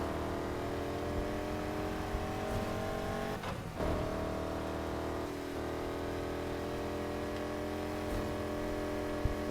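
Racing car engine from the Need For Speed Heat video game, a steady loud roar with sustained revving throughout and a brief dip and shift near the middle, no talk over it.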